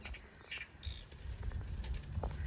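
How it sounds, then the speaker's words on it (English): Noisy birds squawk and chirp in short bursts around a carp fishery lake on a sunny day, scattered calls over a steady low outdoor rumble. "Some real noisy birds in there."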